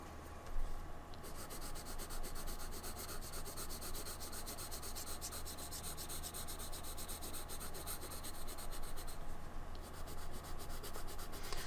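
Sargent Art watercolor pencil being colored onto paper in light layers, a faint, continuous scratchy rubbing of the lead against the page, steady and close with no talk.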